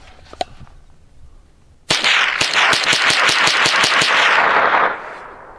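Rock Island TM-22 rifle firing CCI rounds: a sharp, loud string of about a dozen rapid shots in quick succession, each a hard crack with a ringing tail, following a couple of faint clicks and handling noises.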